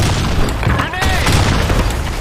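A grenade explosion in the Counter-Strike map Sand Storm II booms amid dense gunfire and game noise, loud and close, with shouting voices around it.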